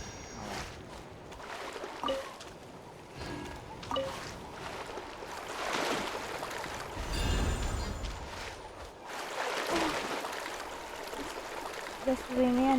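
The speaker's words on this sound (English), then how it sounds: "Oh, I can only sprint on water." Water splashes and rushing water as a character sprints across water in Genshin Impact, a continuous swishing wash with surges, under a player's talking.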